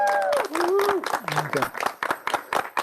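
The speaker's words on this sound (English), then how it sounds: "so you can applaud if you like" Scattered clapping from guests at a Hindu wedding after the couple's seven steps, running beneath a speaking voice that continues throughout.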